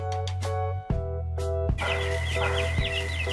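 Chickens cluck repeatedly inside a poultry house, with a steady low mechanical hum running underneath, likely ventilation fans, and a few sharper calls standing out above the flock.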